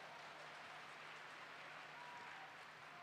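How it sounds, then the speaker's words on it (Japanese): Stadium crowd at a women's Nadeshiko League football match at Fukuda Denshi Arena, clapping in steady, sustained applause heard from a distance as an even wash of sound, with no speech over it. "ピンチ一つしのいだ時のこの拍手とかもやっぱり今日すごくジェフ側の観客席からねたくさん飛んでくるんで"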